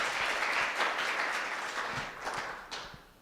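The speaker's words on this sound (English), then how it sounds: "worth giving ourselves a round of applause for" A crowd applauds steadily for a few seconds, dense clapping from many hands that slowly tapers off.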